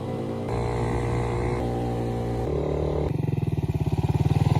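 A motorcycle climbs a mountain road toward a skyline ridge, its engine droning steadily and shifting pitch between gears, then pulsing rhythmically as it labors near the end.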